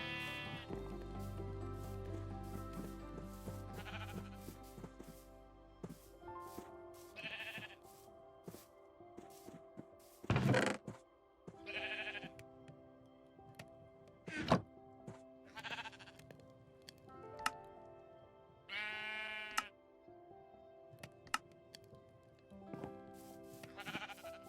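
Repeated Minecraft sheep bleats ring out every few seconds, some loud and close, over a steady tonal musical backdrop.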